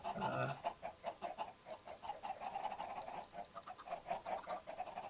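Repeated chicken clucks in Minecraft, in a steady, busy rhythm, moderately loud, with no one talking.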